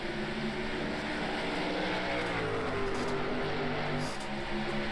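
Several stock car engines in a racing video game roar together at a steady, high-revving drone, layered and continuous as the pack pulls away from the start at Atlanta.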